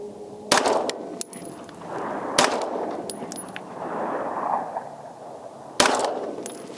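A Dan Wesson DWX pistol fires at an outdoor range, with three or four sharp reports spaced irregularly and metallic clangs in between, all heard over a steady background hiss.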